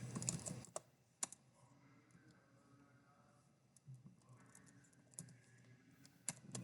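A computer keyboard is typed on in scattered quick clicks and taps, close and quiet, with faint talk in the background.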